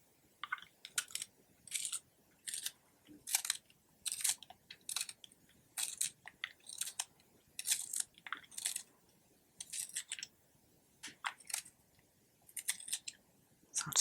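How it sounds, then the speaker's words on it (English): Mixed media drawing in a sketchbook, with close, crisp scratching and scraping strokes coming in short repeated bursts and small pauses between them, quiet and intimate with no talking. "hoping to capture the sounds of the drawing process, the nice ASMR kind of sounds for you."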